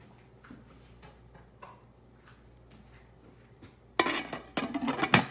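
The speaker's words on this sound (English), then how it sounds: "Get our lid back on." A lid clatters back onto a slow cooker full of carnitas with orange and lime, a burst of close clinks and knocks near the end after quiet faint ticking.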